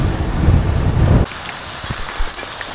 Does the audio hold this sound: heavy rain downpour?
yes